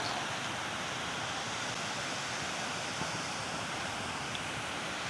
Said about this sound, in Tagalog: Kaka-relax po yung tunog po ng agos ng tubig